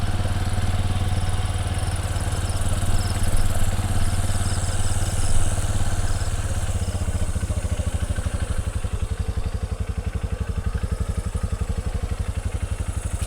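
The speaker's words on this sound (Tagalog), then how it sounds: "i-off natin motor" A motorcycle engine idles steadily nearby, a loud, even putter that turns into a clearer rhythmic chug partway through, with no speech.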